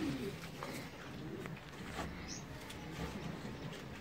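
Racing pigeons in a loft, including a slate cock, coo softly through a steady low background murmur, with faint chirps and no clear talk.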